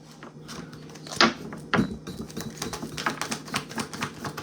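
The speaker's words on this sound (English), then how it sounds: "Last shuffle, spirit. Last shuffle." Tarot cards being shuffled, papery riffles and sharp card snaps with two louder slaps, continuing as busy rustling clatter.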